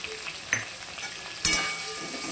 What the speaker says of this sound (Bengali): এইবার এই যে আমি পেস্টটা বানিয়ে নিয়েছি, ধনে জিরে গোলমরিচ, তো এই পেস্টটাকে আমি দিয়ে দেবো